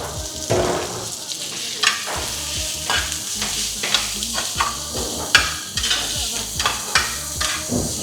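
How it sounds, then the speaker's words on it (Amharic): Onion sizzles in hot oil in a preheated frying pan while being cooked for a holiday meal, a steady close crackle broken by repeated scraping stirs. "መጥበሻው ከጋለን በኋላ መጀመሪያ ሽንኩርት ነው መብሰል ያለበት።"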